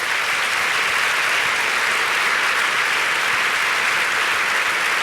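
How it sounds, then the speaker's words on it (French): A large audience in a hall gives dense, steady applause at the Prix de Lausanne 2011 ballet competition finals. The sound stays loud and even for about five seconds. "Je vous demande de les applaudir vraiment chaleureusement."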